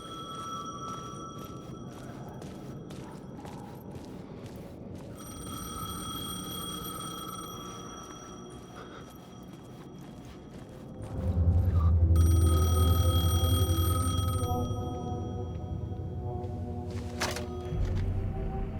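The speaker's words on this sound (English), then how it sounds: "The payphone was ringing." A payphone rings repeatedly in Alan Wake 2, the bell tones coming in steady bursts over dark ambient music and rumble, with a louder, heavier stretch partway through.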